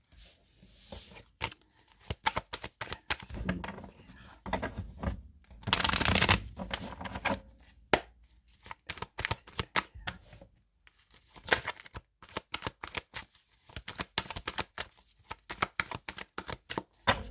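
Tarot cards shuffled by hand, a long run of crisp riffling and papery flicks with rhythmic bursts and a dense burst in the middle, close up with no voices.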